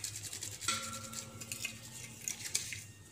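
Brass puja vessels are scrubbed clean of black stains by hand, giving soft rhythmic scraping with occasional light metallic clinks, close and quiet with no talking.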